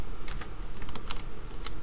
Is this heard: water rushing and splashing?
no